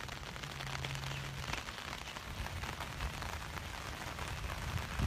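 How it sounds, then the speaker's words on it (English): Rain patters steadily on an umbrella overhead, a dense, soft hiss of close drops with occasional louder taps, fairly faint and without talking. "It's raining. There's going to be some showers early today."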